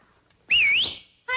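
A single close, loud human whistle in a 1960s Beverly Hillbillies sitcom scene swoops up and down for about half a second, then a voice starts speaking right after it.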